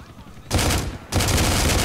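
Heavy automatic gunfire in GTA IV, two loud sustained bursts of rapid shots after a brief quieter moment, with a voice talking underneath.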